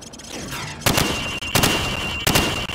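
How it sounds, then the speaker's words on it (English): Rifle shots fired from the hip on a Call of Duty 4 training range: three loud, sharp gunshots at roughly even intervals, each with a short ringing tail, over steady background ambience. "Now, shoot at the targets while firing from the hip."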